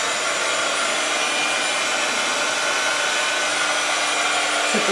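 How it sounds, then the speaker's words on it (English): Embossing heat tool blowing hot air in a steady, loud, unbroken whoosh, like a hair dryer, running close and alone for the whole span. "Let your heat tool get a bit hot."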